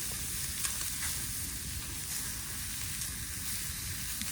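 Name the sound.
seasoned pork chops sizzling on campfire grill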